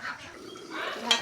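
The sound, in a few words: pot lid being opened while cooking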